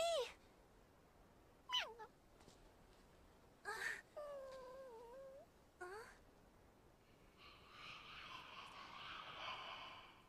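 Several distinct cat meows, some drawn out and wavering, spaced across the clip, followed by a stretch of soft broadband noise toward the end.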